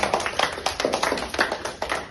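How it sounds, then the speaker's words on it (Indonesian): A high school classroom claps for a student after her answer, a brisk scatter of hands from a small group of pupils, close and lively, with a quick uneven rhythm and no talk. "Tepuk tangan dulu buat Fania"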